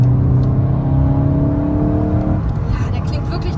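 A Volkswagen Golf 8 GTI engine runs nearby with a loud, steady humming drone that eases down slightly near the end.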